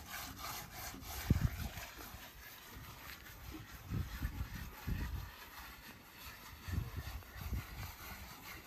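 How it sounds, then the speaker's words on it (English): Black charcoal liquid is rubbed by hand onto the wall of a traditional African hut over black garden soil. Faint, uneven scrubbing strokes come and go in soft bursts under a quiet background hiss. "now here black charcoal liquid is rubbed on top of that garden black soil"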